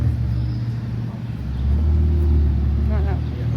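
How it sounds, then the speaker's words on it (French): Low, steady engine rumble of a Ferrari moving through stop-and-go Monaco traffic, swelling louder partway through as it passes nearby, with a person talking over it. "Regardez-moi cette belle Ferrari."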